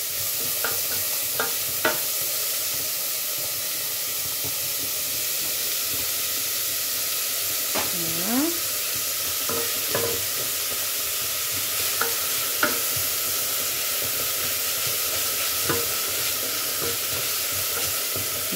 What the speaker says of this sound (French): les échalotes ou là ou bien les deux petits oignons, et je mets dans l'huile